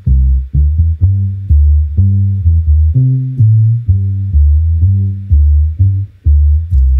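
Edited, separated bass line from an AI-generated song, playing alone as a deep, pulsing riff of short repeated notes in a steady rhythm, loud and dry with no other instruments.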